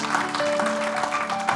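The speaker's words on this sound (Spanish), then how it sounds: "Dele un aplauso fuerte al Señor" Congregation applauding at an evangelical church service, steady dense clapping filling the space with a sustained tone running beneath it.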